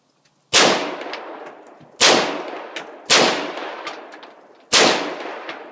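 Four loud, sharp AR-15 rifle gunshots fired outdoors at uneven intervals, each a sudden crack followed by a short decaying echo, with no talking between shots.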